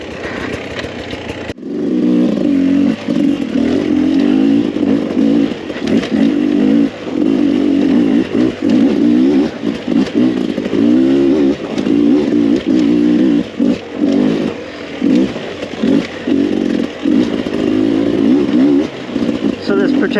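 A 2021 Beta 300RR two-stroke dirt bike engine runs loud and close while riding, its revs rising and falling in steady surges with brief throttle dips over about twenty seconds.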